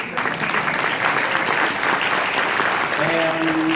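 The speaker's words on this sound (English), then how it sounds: "applaud whenever the spirit moves you to do so" A live radio theatre audience in Portland, Oregon, at a 1943-style Christmas show applauds in a steady, dense wash of clapping from the whole room, with a brief tone sounding near the end.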